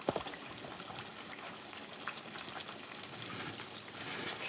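Fish frying in an iron skillet with a steady crackling sizzle and fine popping spatters, close up, with a brief clatter at the start and no talk.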